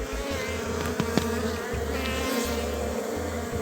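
A dense, continuous buzz of a honeybee swarm settling into a new hive box hums steadily, close and fairly loud, with no voices.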